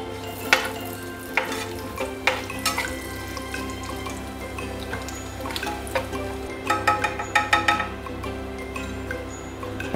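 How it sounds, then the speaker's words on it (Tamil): Small pieces of chopped almond roast in a pan for semiya kesari, with repeated spoon stirs and light clinks against the pan over a low background hum. The clinks grow quicker and denser toward the end. "அதையும் போட்டு வறுத்தெடுத்துக்குவோம்."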